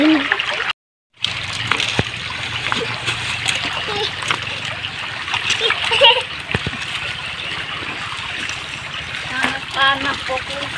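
Continuous splashing and trickling water from a child bathing in a river at a forest edge, steady and fairly close, with scattered children's voices and outdoor ambience throughout.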